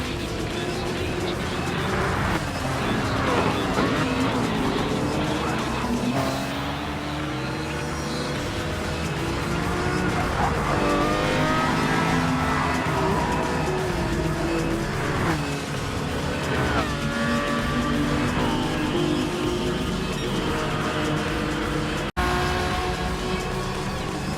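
Race cars including a Lamborghini roar around a street circuit in Gran Turismo 7, engines droning and shifting pitch continuously under a dense, steady mix with occasional tire noise.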